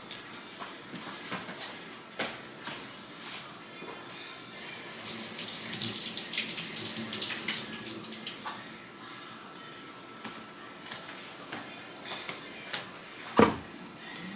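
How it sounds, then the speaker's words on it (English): Tap water runs and splashes as cabbage is washed under it in a kitchen sink, a broad rushing flow for a few seconds amid clattering handling noises, with a sharp knock near the end. "I'm going to wash my cabbage, although I wash it a second time."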